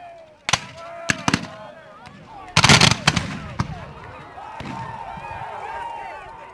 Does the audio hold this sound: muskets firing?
yes